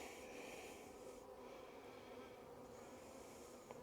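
A steady, dense drone of many honey bees buzzing together, continuous and close, with no voices.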